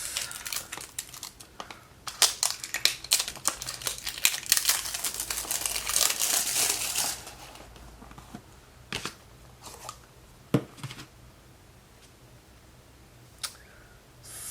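Crinkly packaging around a lip scrub is pulled open by hand, giving close, busy crackling and rustling with sharp ticks for about seven seconds, then a few sparse clicks and handling noises.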